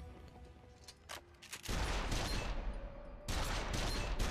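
Rapid gunfire in the action video game Stranger of Paradise: dense, sustained bursts of shots that start after a quieter opening, run loud and continuous, then swell again near the end.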